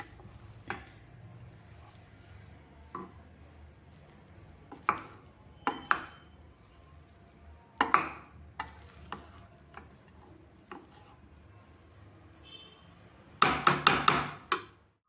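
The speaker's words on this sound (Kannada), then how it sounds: "ಈಗ ಎಲ್ಲ ಮಿಕ್ಸ್ ಮಾಡ್ತೀನಿ ಕೆಳಗಡೆಯಿಂದ ಮೇಲೆ ಎಲ್ಲ ಮಿಕ್ಸ್ ಮಾಡ್ತೀನಿ" Cooked khichdi made with lentils, greens and vegetables is stirred in a pressure cooker, giving soft irregular scrapes and knocks of a spoon against the metal pot, closing with a quick burst of louder clattering.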